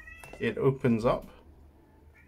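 A cat meows from outside while someone talks indoors; the meowing is faint and partly buried under his voice during an unboxing.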